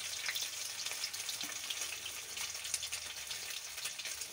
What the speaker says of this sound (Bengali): কড়াই তেল গরম হয়ে গেছে, মাছগুলো দেখো ভেজে তুলে নেবে